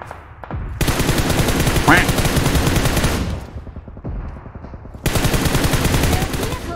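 Heavy automatic gunfire from the video game PUBG Mobile, in a heavy weapons mode with tanks, comes in loud, sustained bursts of rapid shots, broken by a brief lull before another long volley.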